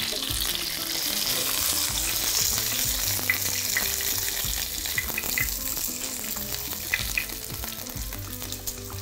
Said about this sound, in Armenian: Լցնում ենք բամբիան, բավական է որքան տապակվեց։